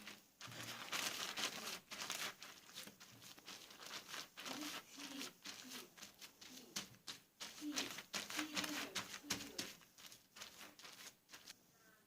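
Strawberries mashed with a liquid solution inside a sealed zip-lock plastic bag, giving continuous close crinkling and crumpling of plastic with soft squishing, steady for the whole stretch with no talking.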